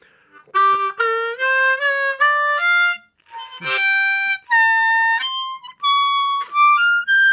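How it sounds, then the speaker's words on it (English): A harmonica plays a blues scale note by note, including 6 overblow and 7 overdraw bends to fill the gaps, bright reedy tones rising then descending with short pauses, close and loud with no talking. "we have the blues scale where you can put 6 overblow and 7 overdraw into the scale to fill in all the gaps"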